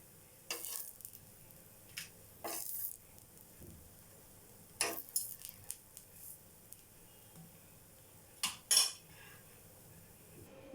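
Metal spoons clink and scrape against a bowl while potato and egg curry is served, a handful of sharp separate clatters with quiet pauses between them.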